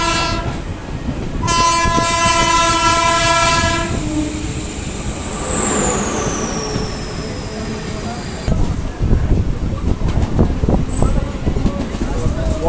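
A MEMU main-line electric multiple unit local train at a station between Barddhaman and Asansol, with loud rail noise, a sustained high horn-like tone sweeping down, and clattering wheel sounds picking up near the end.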